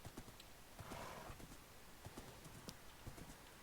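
Horse hooves clip-clopping in the Minecraft video game, a quick run of light, evenly spaced clops alongside a short whinny-like swell, faint and close with no talk.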